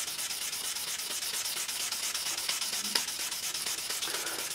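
Frets on a 2008 Fender Telecaster neck are polished with abrasive grit, a close, steady rhythmic rubbing and scratching with quick back-and-forth strokes at a soft level, with no speech.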